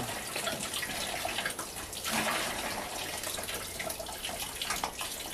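Water flows steadily from a hand-operated simple pump with a garden hose attached. The rushing, splashing sound is close and continuous, with no talk over it.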